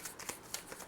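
Tarot cards being shuffled by hand, a brief, soft riffle of soft rhythmic flutters, quiet and close, with no talk.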